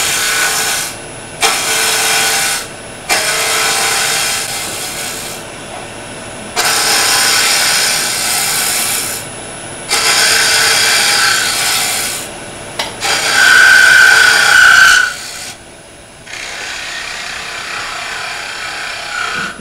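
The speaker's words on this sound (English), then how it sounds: "A push cut will give you a cleaner cut because it's pushing on the side grain." A bowl gouge making push cuts in wood on a lathe, producing repeated loud, scraping cutting passes of a few seconds each, separated by brief quieter pauses with the lathe hum underneath.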